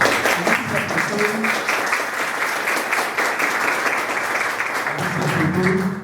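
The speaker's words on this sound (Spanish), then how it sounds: "cuatro profesores que se merecen también un gran aplauso por su participación." Loud, steady applause rolls through the room for four teachers at a Spanish-language panel on reading, a thick wash of clapping that swells slightly at the close, with faint murmured voices underneath.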